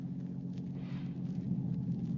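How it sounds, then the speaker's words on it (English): A low, steady rumble of thunder used as a sound effect in a radio drama, rolling on continuously at moderate loudness with no voices. "heard the first sound of thunder in the air"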